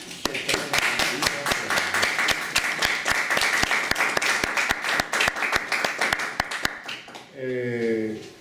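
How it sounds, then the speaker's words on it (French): Seminar audience at a Paris university lecture bursts into applause, a dense, fairly close patter of many hands clapping steadily for several seconds before fading out as a voice begins to speak. "nous pouvons t'applaudir pour cette..."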